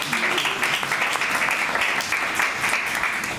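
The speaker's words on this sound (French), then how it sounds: "on peut applaudir Hassan, on va mettre de l'ambiance comme ça." Audience applause at an evening debate event in Orléans, a continuous dense clapping from a crowd heard throughout, with faint voices mixed in.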